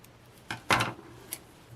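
Scissors snip a see-through washi tape strip at a craft desk: a few quick, crisp clicks close by, with quiet room tone between them.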